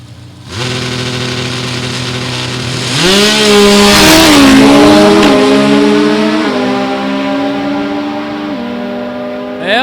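Drag racing cars, a Pontiac among them, roar off the line on a quarter-mile strip, loud and close, their engines climbing through rising, wavering gear pulls that sustain for several seconds before easing away.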